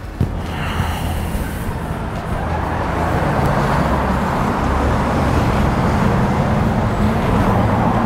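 Road traffic rolls past on a street, with a continuous broadband roar of passing cars that grows slightly louder after a brief thump near the start, heard alone without speech.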